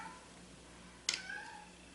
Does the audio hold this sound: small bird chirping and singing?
no